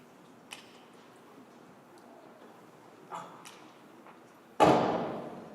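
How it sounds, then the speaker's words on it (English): A gunshot effect from a school stage production of Treasure Island cracks out suddenly and loudly, then rings away in the hall after a few faint knocks and thumps. "What's that? A gunshot."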